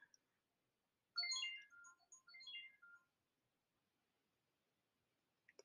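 A mobile phone ringtone plays a short melodic chime lasting about two seconds, faint and alone, with a couple of soft clicks afterward.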